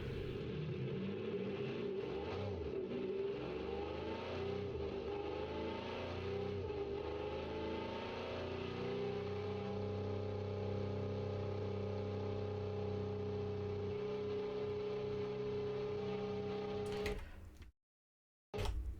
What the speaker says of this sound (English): Let's start the engine. And let's go.